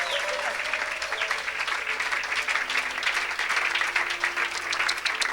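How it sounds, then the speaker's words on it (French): A church congregation clapping for the Lord at an evangelistic service, dense sustained applause from a large crowd with a faint voice and a few cheers mixed in. "Somebody clap for the Lord."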